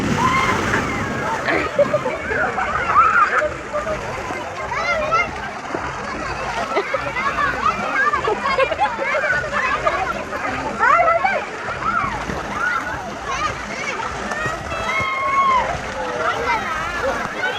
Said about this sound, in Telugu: ఆ బకెట్ నీళ్ళు పడతాయి మళ్ళీ పడుతున్నాయి కదా